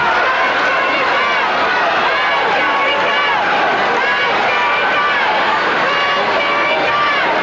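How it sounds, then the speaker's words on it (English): A Memphis wrestling crowd hollers for Jerry Lawler during an anything-goes match, a loud, continuous roar of many voices shouting and cheering together, dense and unbroken from start to finish. "Crowd hollering for Lawler."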